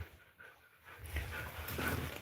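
Husky or similar dog panting close by at a cabin in the early morning, quick breathy rhythm growing louder in the second half, with no talk over it.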